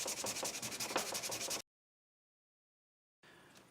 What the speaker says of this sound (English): start to sand this little piece of thing really, really fast